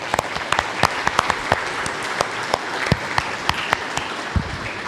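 A church congregation applauds a guest being welcomed to the stage, a steady round of clapping with distinct sharp individual claps standing out, fairly close and sustained throughout.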